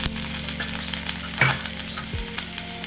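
Peas and whole spices hitting a hot pan with beans and potatoes for veg pulao, a steady close sizzle with a brief louder burst as they go in and light stirring clatter, no talking.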